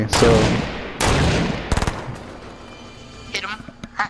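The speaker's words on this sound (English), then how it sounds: "I'm using a submachine gun only" Submachine gun fire in an online shooter video game: loud, close rapid bursts, several separated by short pauses, with fainter shots near the end and a voice talking briefly.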